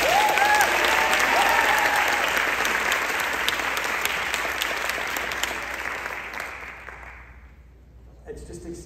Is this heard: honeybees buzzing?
no